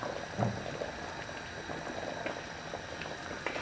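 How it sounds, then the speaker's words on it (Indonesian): Opor ayam, chicken in coconut milk, bubbles gently in a pot at a steady, quiet simmer, soft and close with a few slightly louder pops and no talk. "Ini sudah mendidih ya, sudah 10 menit dari tadi mulai memasukkan santannya."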